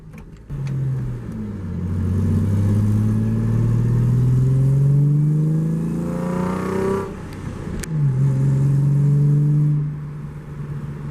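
A Ford Mustang with a manual transmission accelerates from inside the cabin, its engine climbing in pitch through gears with a shift pause before revving up again.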